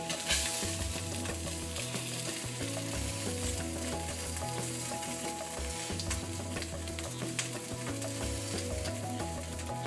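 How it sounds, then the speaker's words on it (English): Salmon searing in a hot cast iron skillet, a steady close sizzle and crackle that runs without a break. Faint musical tones sound underneath. "get that nice sear"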